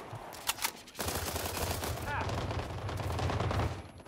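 Beryl rifle fire in the shooter game World War 3: after a few sharp early shots, a dense, continuous rattle of gunfire and battle noise runs loud and steady to the end, with a player's voice faintly underneath.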